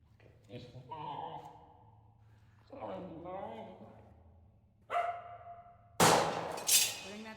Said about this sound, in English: That's the dog we saw in the picture.